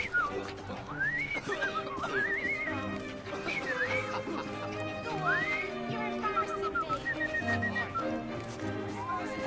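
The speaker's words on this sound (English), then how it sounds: "I've just learned to whistle." A character whistles a wandering tune in Assassin's Creed Syndicate, several rising and falling phrases over a steady background of horse neighs and clip-clopping hooves, moderately loud and close.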